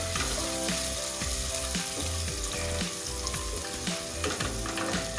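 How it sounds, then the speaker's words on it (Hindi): Onions fry in a pan for a tori (ridge gourd) sabzi, a faint continuous sizzle under rhythmic clicking and clattering mechanical sounds. "प्याज को गोल्डन ब्राउन होने तक हम पकाएंगे।"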